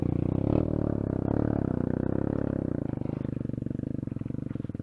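A dirt bike engine labours loudly and continuously while climbing a steep mountain trail, its low revving drone steady and close, with a faster throbbing pulse emerging toward the end.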